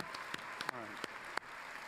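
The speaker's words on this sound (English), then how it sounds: "how about another round of applause" Scattered applause from a crowd at a D23 Disney Legends Award ceremony watch party, fairly faint, with voices and a few sharp claps or cheers standing out.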